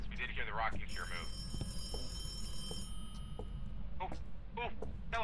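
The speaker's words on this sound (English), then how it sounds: "Oh, oh, telephone. Where's that phone?" An old-fashioned telephone bell rings in the horror game Phasmophobia, a sustained metallic ring that starts near the beginning and fades out, with someone talking over it before and after.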